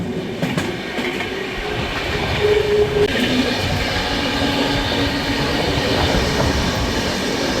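Intercity Express 20452 rolls on rails out of a yard, giving a steady rumble with faint wheel clatter and brief squeals and no speech.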